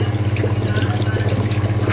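Cold water, mixed with ice and rose water, pours steadily into a bowl, making a continuous close-up splash over a low, even hum. No one talks.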